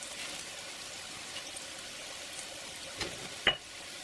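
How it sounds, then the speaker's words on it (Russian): Turmeric and barberry frying in beef pilaf in a kazan gives a steady, soft sizzle with faint crackle throughout, and a brief louder clink near the end. "Чайная ложка куркумы добавляю в казан и барбарис."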